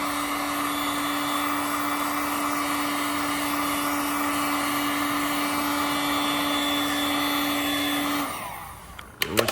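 A heat gun blows hot air onto the badges of a former police car, making a loud, steady whining hum close by for about eight seconds. The hum then cuts off, leaving a few faint clicks and handling noises.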